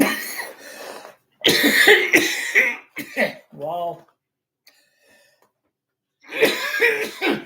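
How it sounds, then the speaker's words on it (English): A person coughs several times in harsh bursts, with a short throat-clearing sound, between stretches of speech and a brief quiet pause. "I'm coughing here"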